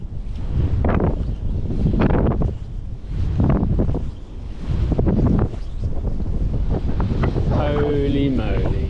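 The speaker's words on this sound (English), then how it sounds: "almost feels as though the wind has just picked up." Strong gusts buffet the microphone at a stillwater trout fishery in spring, coming in heavy rumbling bursts that rise and fall, with someone speaking briefly near the end.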